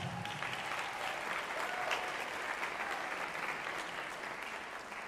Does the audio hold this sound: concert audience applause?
yes